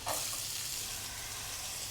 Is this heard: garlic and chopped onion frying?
yes